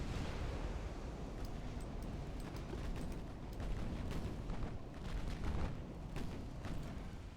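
Naval artillery fire in the video game Ultimate Admiral Dreadnoughts, a dense rumble of overlapping distant booms and sharp bursts rolling continuously under a low background roar.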